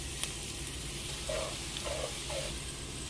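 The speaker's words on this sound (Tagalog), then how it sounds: "Then sa isang pan po, tayo po magigisa ng garlic." Garlic sautés in a pan with a soft, steady sizzle and a few faint stirring scrapes, quiet and without talk.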